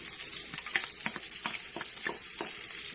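Onion frying in a pan on a tiny home stove, a constant bright sizzle with a few soft stirring scrapes, close up and uninterrupted by speech.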